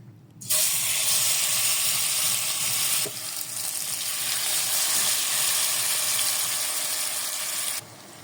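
Whole hilsa fish, roe inside, frying in hot mustard oil in a wok, a loud steady sizzle that bursts in as the fish go in and continues strongly throughout, no talk.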